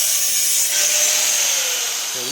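A hand saw cuts through a metal pipe for a loft-style table, producing a loud, close, continuous rasping scrape that holds steady throughout.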